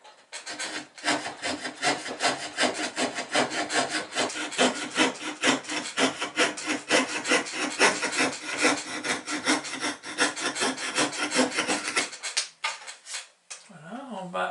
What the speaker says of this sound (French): Avec une scie à découper, on va découper la forme de l'étrave.